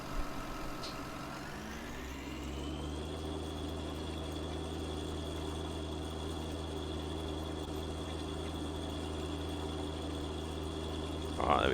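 A farm tractor engine idles steadily, its low droning hum and harmonic whine holding at an even level for about ten seconds after a brief rise in pitch, with no talk over it.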